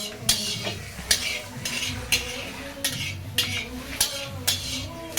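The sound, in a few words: onions frying in a wok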